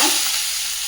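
Chopped onion hits hot oil with kalonji seeds in the kadai used for frying fish, a loud, close, steady sizzle that fades slightly over a second.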